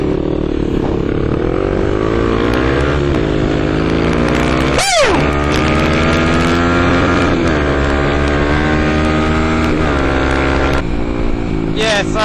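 KTM 525 EXC and 250 dirt bikes ride together, with engines droning and revving in rising and falling pitch over heavy wind buffeting. A sharp burst of noise cuts through near the middle.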